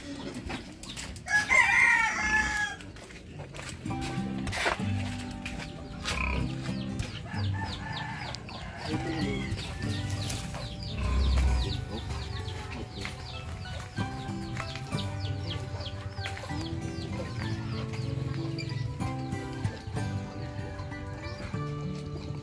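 Chickens and roosters cluck and crow in a farmyard, with a loud crow early on and scattered clucks and calls continuing throughout, moderately close.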